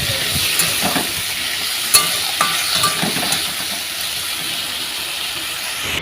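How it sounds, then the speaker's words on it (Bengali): Small round-cut potato pieces tossed into a hot pan of oil and stirred, giving a steady close sizzle and hiss with a few scraping clacks of the spoon against the pan, no voices. "এবার দেখো আলুগুলোকে দিয়ে দিয়েছি, ছোটো ছোটো গোল গোল করে আলুগুলোকে কেটে নিয়েছি।"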